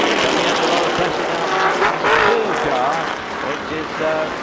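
Race cars lap at the 1996 IMSA endurance race at Sears Point, their engines a loud, continuous roar that rises and falls in pitch as they pass.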